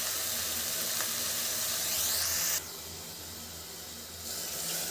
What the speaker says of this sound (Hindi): ये मैंने पानी डाल दिया है,